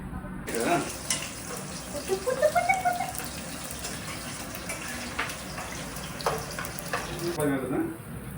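Onions frying in a hot pan for garnish, a steady close sizzle with stirring scrapes and soft clatters, with a faint voice now and then.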